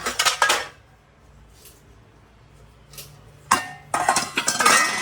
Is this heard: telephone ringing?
no